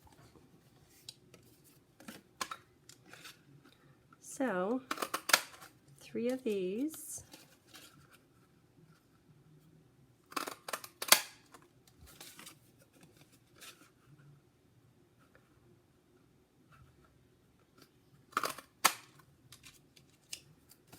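A heart-shaped paper punch cuts scallop heart shapes from thick petal pink cardstock, giving several sharp crisp clicks and crunches spaced apart, with someone talking in between.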